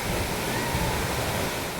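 The Tirathgadh waterfall in Bastar roars as water plunges from above: a steady, dense, full-bodied rush of falling water that fills the whole moment without a break, close and constant.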